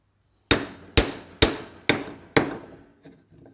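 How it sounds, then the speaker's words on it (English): Five sharp, evenly spaced hammer blows drive wood glue and sawdust filler into a wardrobe being restored, each strike ringing out and decaying, followed by two softer taps. "So we're going to hammer that down"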